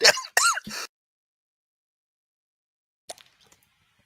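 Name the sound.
coughing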